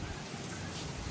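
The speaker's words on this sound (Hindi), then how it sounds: "अभी देखो बारिश भी आ गई है" Rain falls steadily in a continuous soft hiss of drops hitting surfaces, fairly faint and even throughout, with no talking.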